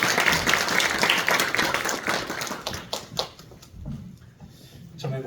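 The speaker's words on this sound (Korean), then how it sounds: "강사님 나오실 때 우리 환영의 박수를" Congregation applauding to welcome a guest speaker at a Korean church revival meeting, dense clapping that thins out and fades, with a voice speaking briefly near the end.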